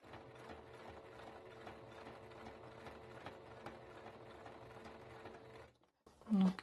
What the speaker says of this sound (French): quand je couds, ça avance tout seul